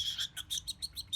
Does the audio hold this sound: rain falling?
no